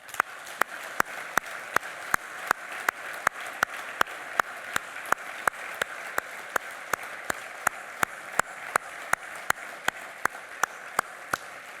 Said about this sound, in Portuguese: para vocês peço uma grande salva de palmas